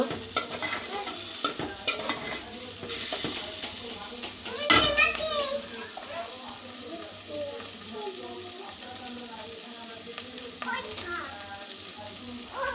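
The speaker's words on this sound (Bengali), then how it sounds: "এটাকে আমি এখন নাড়াচাড়া করে তারপরে এটা একটু ভালো করে কষিয়ে নিয়ে" Tomato masala for chicken kosha stirred and fried in a pan, a steady close sizzle with scraping spoon strokes throughout and a brief louder clatter near the middle, while children's voices chatter in the background.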